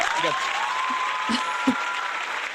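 A steady wash of crowd applause played as a sound effect on a live-streamed talk show, holding evenly throughout with a few faint voices and bumps beneath it.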